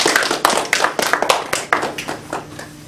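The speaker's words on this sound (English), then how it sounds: "Let's give a round of applause to both of them." Toastmasters club members applaud, a close, brisk round of overlapping claps from a small group that thins out toward the end.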